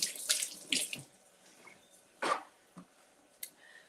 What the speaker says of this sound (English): let me give this a little rinse